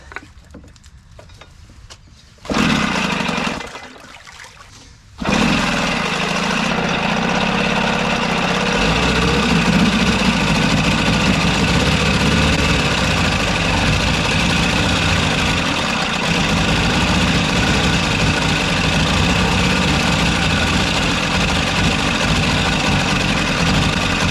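A vintage Wizard outboard motor that sat unused for 20 years fires after a couple of short sputtering bursts, then settles into a loud, steady, slightly lean-running drone that carries on alone.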